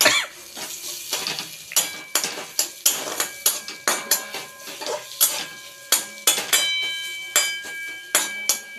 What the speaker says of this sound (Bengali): এটা একটু নেড়ে চেড়ে নেব।